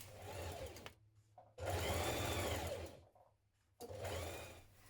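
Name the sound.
sewing machine stitching a side seam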